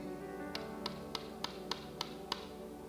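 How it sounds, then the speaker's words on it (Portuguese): Seven evenly spaced knocks on a door, sharp and moderately loud over a steady low background hum, with no other voices. "Eis que estou à porta e bato."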